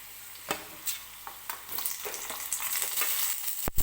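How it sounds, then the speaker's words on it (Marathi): Tomatoes go into hot oil in a kadhai after onions for coconut-tomato chutney, giving a soft sizzle with repeated scraping stir strokes at a steady rhythm, fairly quiet and without talk. "तर आता मी कढईमध्ये टोमॅटो टाकून घेते"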